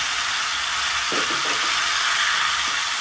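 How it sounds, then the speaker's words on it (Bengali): Coated ivy gourd slices hitting hot oil in a pan, producing a dense, steady sizzle with a few soft stirring clicks, close and loud, with no talking. "এবার আমি মাখানো কুঁদরিগুলোকে দিয়ে দিলাম"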